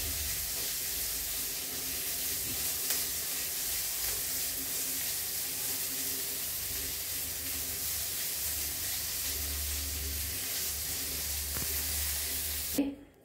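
Garlic and ginger sauté in hot oil in a pan, a steady low hiss of sizzling running continuously and fairly quietly, ending with a brief clatter.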